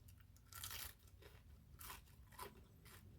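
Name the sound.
crunchy bite of air-fried food during mukbang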